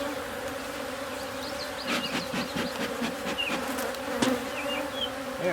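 Honey bees swarm-buzzing around an opened hive during a May inspection, a dense steady drone with individual bees zipping close past, continuous and fairly loud with no talking.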